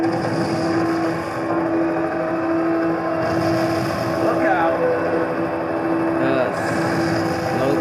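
A car engine in a racing video game drones steadily at a fairly even level throughout, with a person talking over it.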